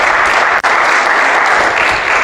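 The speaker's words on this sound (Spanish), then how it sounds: "Démosle un fuerte aplauso a nuestro Señor" Loud, dense applause from a church congregation praising God during a sermon, a steady wash of clapping with a brief dip near the start and no talk over it.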